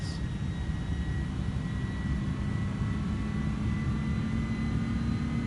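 Airliner engine in Flight Simulator 2024 on PS5, a steady loud low rumble with a faint whine above it as the plane comes in on approach at about 240 knots.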